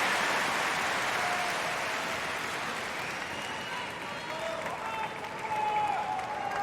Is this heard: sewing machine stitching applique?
no